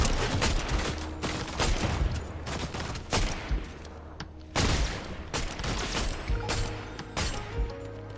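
Dense, rapid gunfire from Fortnite guns, with bursts of loud shots rattling almost nonstop, sharp cracks and heavy booms overlapping in a chaotic firefight close by.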